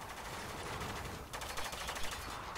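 Rapid automatic gunfire rattles in bursts during a firefight in the military shooter Spec Ops: The Line, dense and continuous with a brief lull midway before the firing picks up again.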